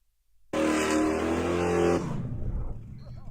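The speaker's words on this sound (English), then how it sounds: "of the car making noise" A car engine revs hard in a loud, sustained roar for about a second and a half, then drops away into a rough, fading rumble.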